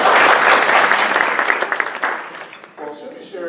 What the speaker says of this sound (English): Let's give a clap for Transforming Institutions.